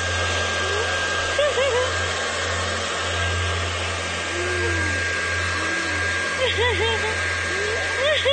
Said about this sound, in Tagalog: Nagbo-blower daw siya ng buhok kasama ang kanyang anak